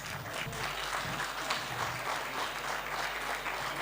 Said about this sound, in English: Another round of applause, dear parents.